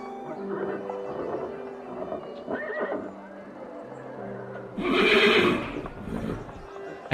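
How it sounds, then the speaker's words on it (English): Horses whinny several times in a period London street setting, with hooves clip-clopping and a loud burst of neighing near the middle, all without speech. "I hear horses, but I don't see them."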